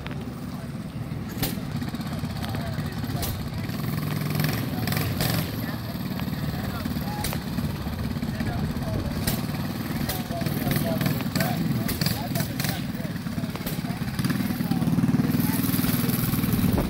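A mini tractor engine revs at an outdoor tractor show, rumbling steadily and loudly throughout. Crowd voices carry underneath, and sharp clicks and pops break through now and then.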